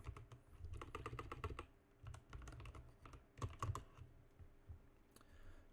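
Password keys tapped on a computer keyboard in quick bursts of clicks, close and clear, with short pauses between runs of keystrokes and no talking.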